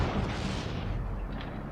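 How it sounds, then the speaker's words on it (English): Mortars fire in the Steel Division 2 war game, producing a dense, rumbling low boom that fills the short moment and then fades slightly, heavy and close with no voice over it. "Mortars are firing."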